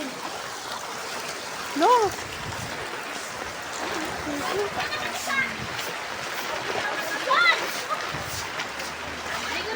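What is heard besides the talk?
floodwater flowing down a street during Typhoon Enteng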